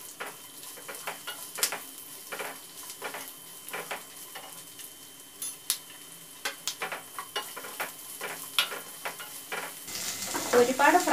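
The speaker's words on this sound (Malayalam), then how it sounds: "I will fry the capsicum." Capsicum frying in a pan for a North Indian masala, with a soft continuous sizzle and regular stirring taps and scrapes, growing louder near the end.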